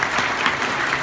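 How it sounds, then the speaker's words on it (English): An audience at a Comic Con panel presentation claps briefly, a dense burst of applause filling the room throughout. "Please give yourselves a round of applause."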